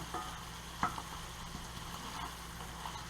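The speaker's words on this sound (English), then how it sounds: "that sausage needs cooked just a little bit more" Sausage frying in a pan for a sausage and cheese quesadilla gives a close, steady sizzle with light crackles and one sharper tick of stirring, without voices.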